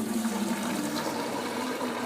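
Water gushes steadily from the outlet of a single-phase submersible pump, a continuous close rushing flow with no talk over it.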